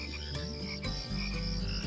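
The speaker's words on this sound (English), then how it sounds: "You can hear the froggy singing." A frog croaks in a nighttime scene, its steady rhythmic calls sitting close and clear over a bed of gentle music for about two seconds.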